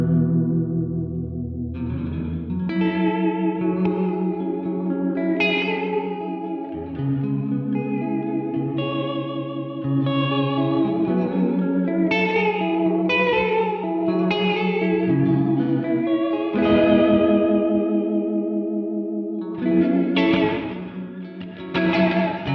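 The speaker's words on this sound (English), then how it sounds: "It's the reverb that's on my big board at the moment, and it's just awesome for getting any reverb sounds" An electric guitar played through a NativeAudio ambient reverb pedal rings out in slow chords and single notes, each swelling and sustaining into a lush, washy tail that overlaps the next.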